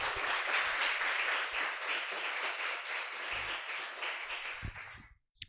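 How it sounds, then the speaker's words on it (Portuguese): A church congregation at a family worship service bursts into sustained applause, dense and steady for about five seconds before it quickly dies away, with a few last scattered claps at the end. "As palmas"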